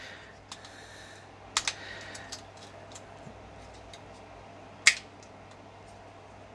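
Plastic parts of a Transformers Studio Series 86 Decepticon Sweep toy being untabbed, giving a few sharp, close clicks and snaps, the loudest near the middle and toward the end, over a quiet room.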